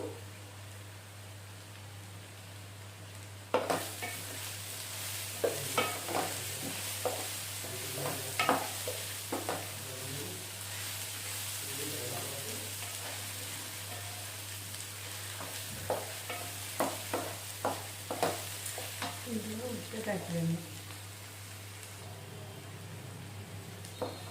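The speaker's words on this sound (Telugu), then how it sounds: "ఇది బ్రౌన్ కలర్ వచ్చే వరకు వేయించుకోవాలి" Curry leaves fry in hot oil in a pan for an Andhra-style raw mango fish curry, giving a steady close sizzle broken by scraping stirs and clicks, with a low constant hum underneath.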